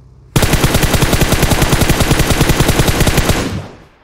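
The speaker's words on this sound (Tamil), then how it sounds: "நம்ம வண்டி சுட்டுட்டு இருக்கான் போல" Rapid automatic gunfire in an online shooter video game, a loud sustained burst of evenly spaced shots lasting about three seconds before cutting off.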